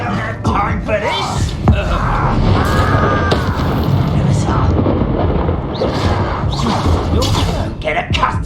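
Confringo blasting spell explosions in a Hogwarts Legacy duel, loud booming blasts and crashes layered with swooshes and magical zaps, continuous and dense throughout.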